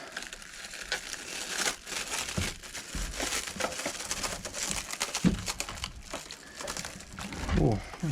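Crinkling and crumpling of packaging while a limited-edition Snap-On 1920s-style Traxxas RC sprint car is unwrapped, steady close rustles with a few sharper tears, and a voice talking intermittently over it.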